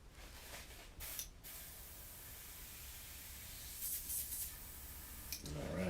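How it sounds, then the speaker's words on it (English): An airbrush sprays paint in a continuous, quiet, airy hiss that swells slightly in the middle and near the end, with a few faint clicks and no talking. "It absolutely works so much better than any other airbrush I've ever used."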